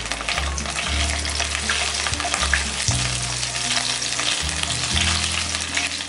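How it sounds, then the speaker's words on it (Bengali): Whole cumin seeds and a bay leaf frying in hot oil, a loud continuous sizzle with crackling and low rumbling bursts, no voices. "তেলটা গরম হয়ে এসছে, এর মধ্যে আমি ফোড়নটা দিয়ে দেব। প্রথমেই গোটা জিরে কিছু পরিমাণ, একটা তেজপাতা"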